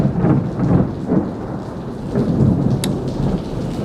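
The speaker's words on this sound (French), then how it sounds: "il pleut, il y a de l'orage" Steady rain patters down during a thunderstorm while low rumbles of thunder swell and fade in waves, with a single sharp crack or drip standing out near the end.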